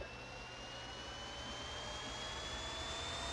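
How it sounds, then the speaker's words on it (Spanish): A jet plane in a Minecraft airplane mod roars steadily as it takes off, a continuous loud engine whine with a faint rising tone held throughout. "Vale, vamos a despegar."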